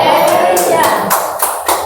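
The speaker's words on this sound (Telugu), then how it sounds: "గట్టిగా చప్పట్లు కొట్టండి." A church congregation claps loudly in a steady rhythm, about seven sharp claps in two seconds, with voices mixed in.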